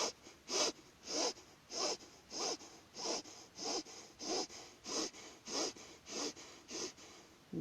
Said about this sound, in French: on fait 12 respirations rapides avec le diaphragme